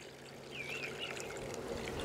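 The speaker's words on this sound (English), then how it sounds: "We're gonna fill both of these up with this Hive Alive syrup." Hive Alive sugar syrup pours into bee feeders in a steady, soft liquid stream, close and continuous, with outdoor background and no voices.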